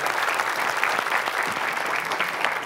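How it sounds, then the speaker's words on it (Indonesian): Studio audience at a game show applauding steadily, a dense, even wash of many hands clapping at close range with no talk over it. "boleh kasih tepuk tangan."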